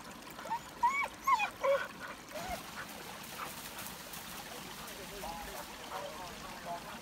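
A gun dog gives a few high, thin whimpers early on during a driven pheasant shoot outdoors, faint against rustling and wind, then soft background noise.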